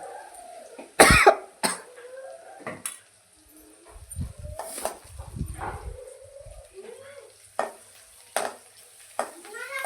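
Spices with turmeric being sautéed in a pan, soft sizzling and stirring scrapes under intermittent loud coughs and other household noises nearby.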